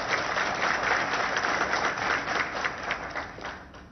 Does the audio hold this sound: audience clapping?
yes